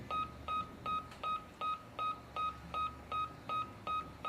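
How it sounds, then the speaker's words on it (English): Exit beeps from an SG4000 wire-free alarm control panel: a steady run of about eleven short, evenly spaced electronic tones, moderately quiet and heard alone. "I'll just wait for that to finish its exit beeps."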